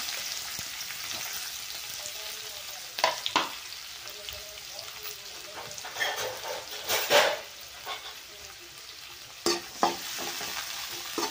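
Crushed garlic and onion fry in oil in a pan for a Maharashtrian sandge vegetable dish: a steady low sizzle broken by repeated spatula scrapes and clatters as the mixture is stirred.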